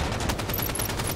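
Rapid gunfire in the Halo 5 beta during a multiplayer stronghold match, with dense, continuous bursts of shots that stay loud and close throughout.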